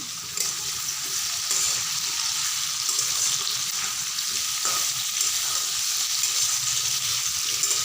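Pieces of raw jackfruit fry in a pan, giving an even, steady sizzle that holds close and unbroken throughout with only faint clicks.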